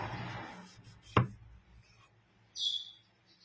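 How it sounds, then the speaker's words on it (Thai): A knife slicing through fried boiled eggs, one sharp close cut with a soft scraping follow-through, then a brief bright scrape, set in a quiet kitchen with faint talk at the start. "น้ำไข่ที่เราทอดเรียบร้อยแล้วก็เอามาผ่าขึ้นผ่าขึ้นจ้า"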